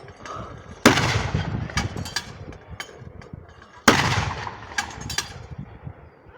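Mortar fire: two loud, booming blasts about three seconds apart, each with a long rumbling, echoing tail and a steady crackle between them. No voices.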